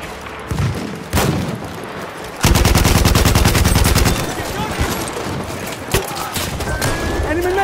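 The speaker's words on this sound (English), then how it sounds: "Enemy machine gun." Machine gun fire in the Battlefield 1 Conquest match at Soissons: a dense, loud burst of rapid rattling shots for about two seconds, framed by scattered single gunshots and booms amid ongoing battlefield din.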